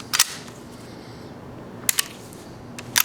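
Small handgun's action worked by hand and locking up, a few sharp metallic clicks and clacks spaced across a quiet room, close and crisp.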